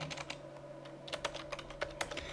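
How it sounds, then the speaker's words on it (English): A computer keyboard being typed on while entering an nslookup command, with quiet, irregular individual key clicks close by and no speech. "We're going to do an NSLOOKUP command. So type in NSLOOKUP."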